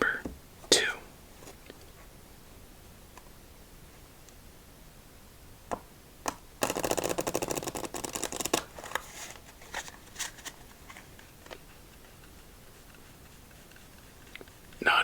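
A brisk riffle of playing cards fluttering for about two seconds during solitaire, preceded and followed by soft taps and handling noises in a quiet room.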